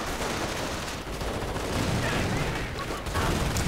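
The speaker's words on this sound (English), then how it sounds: "And LMG-42 firing away." An LMG-42 machine gun fires in a video game battle: dense, continuous bursts of gunfire mixed with other shooting in a busy war scene.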